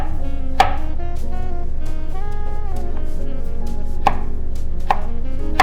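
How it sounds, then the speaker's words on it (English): A knife chops through a tough kohlrabi on a cutting board, slicing it thin: about four sharp, close thuds at uneven intervals over a steady tonal background. "we're just going to cut them into little slices"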